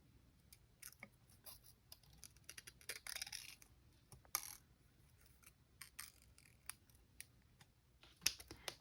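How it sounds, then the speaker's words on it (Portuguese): Scissors cutting an amigurumi crochet piece, a series of quiet close snips in irregular bursts with soft handling noise between them and no talking. "Vou cortar aqui mais ou menos com o que eu marquei."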